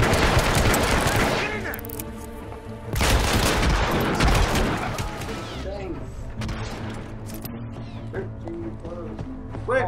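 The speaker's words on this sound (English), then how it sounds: "What is he shooting at?" Gunfire in a Hitman video game, heard as a loud, dense burst of shots at the start that thins into scattered cracks and game ambience while players shout over it.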